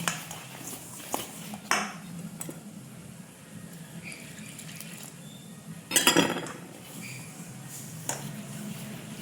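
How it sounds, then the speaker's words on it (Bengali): Pitha batter being mixed with milk in a bowl, with scattered clinks and scrapes of a utensil against the bowl and a louder flurry of knocks midway, near and moderately loud. "এর মধ্যে এবার একটু মিশিয়ে নেই, সব মিশিয়ে নিয়ে দুধ দিয়ে গোলাবো"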